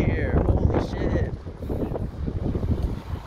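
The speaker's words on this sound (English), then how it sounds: "So windy here." Strong gusting wind in Barcelona buffets the microphone with a loud, uneven low rumble that swells and dips throughout, with a short voice early on.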